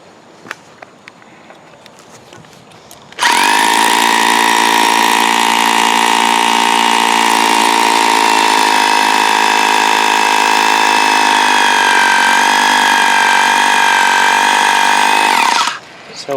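A hammer drill bores into powdery concrete during a concrete repair job, running loud and steady for about twelve seconds with a harsh whine and rattle, then stopping abruptly.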